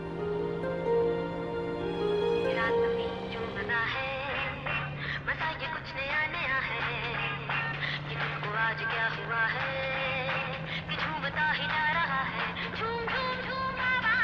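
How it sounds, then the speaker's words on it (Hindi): A full, steady pop song plays throughout, with a sustained low drone and busy melodic layers, fairly loud and continuous with no talking. "अब हम आपको सुनवाने जा रहे हैं वो गाना जो आजकल सबकी जुबान पर चढ़ा हुआ है"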